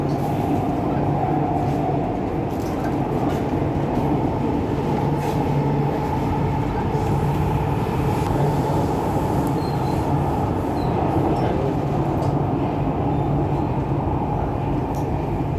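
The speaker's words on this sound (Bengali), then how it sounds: "উত্তর দিনের ট্রেন যাইতেছে" A Chennai metro rail train rolls past with a steady, loud rumble and a faint whine of wheels on track. The sound holds unbroken from start to finish, with no voices.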